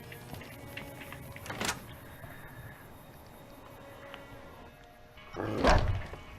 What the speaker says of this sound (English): Oh, hello, dog.